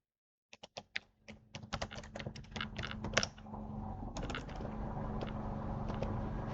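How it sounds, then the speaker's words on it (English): Fingers type on a computer keyboard at close range, giving a quick run of light, uneven key taps that then blend into a denser, steadier clatter, with no voices. "to manually add a donor, we click on the plus sign add new and then type in our donor"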